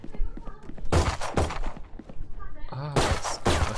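Rapid bursts of Valorant gunfire, several volleys of sharp shots with brief gaps, loud and close, with faint talk underneath.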